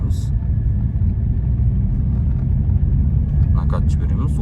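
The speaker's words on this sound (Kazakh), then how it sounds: "Жүре береміз, газ беріп." A car accelerating on a narrow town street brings a loud, steady low engine rumble that fills the whole stretch, with brief faint clicks and a voice near the end.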